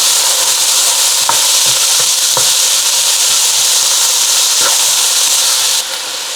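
Bell pepper and garlic sauté in a very hot pan, a loud steady sizzle filling the whole stretch with a few clicks of stirring on top. The hiss drops slightly near the end, and no one speaks.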